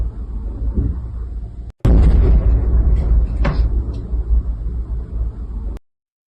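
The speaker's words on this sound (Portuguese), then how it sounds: "só dá para ouvir o som das explosões aqui" Heavy, booming wartime explosions near the Sumy and Kursk border regions fill the clip after a brief cutoff, loud and rumbling with a sharper burst midway, then stop abruptly.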